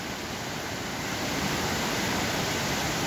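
The Orlia waterfall in Greece rushing steadily, a dense, loud and even roar of falling water heard close up with no talk.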